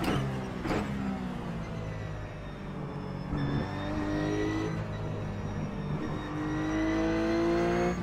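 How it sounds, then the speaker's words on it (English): Ruf CSpec race car in iRacing at Spa, a steady engine drone with falling pitch sweeps as it brakes and downshifts to third gear, loud and continuous throughout with no talking. "braking just a little bit before the 100 board here, down to 3rd gear"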